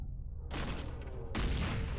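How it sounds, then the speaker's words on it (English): A grenade explosion in the video game X-Com Files, two sharp heavy blasts in quick succession, the second louder and fuller, with rumbling decay after each. "Oh, that was a boom. That was explosive."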